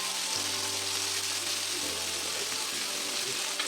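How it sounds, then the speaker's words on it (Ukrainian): Onion sprinkled with sugar sizzles steadily in a frying pan, a close, continuous crackle with a low hum underneath, no voices. "І обсмажимо."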